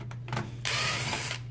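A power drill backing screws out of a computer keyboard being scrapped, with a couple of short bursts followed by a sustained whirring run close by.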